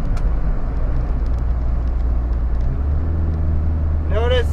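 A truck with an Allison 6-speed transmission decelerates in tow haul mode, giving a loud, steady low engine drone whose pitch drops as it downshifts, with a brief whining squeal at the end.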